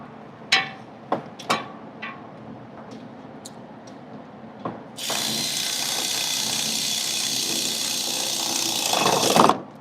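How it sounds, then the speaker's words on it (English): Tightening bolts while installing an A/C compressor on a motorhome in a garage: a few sharp metallic clicks and clanks, then a loud, steady mechanical whir, like a power tool, running for about five seconds before it cuts off. "Tighten this up."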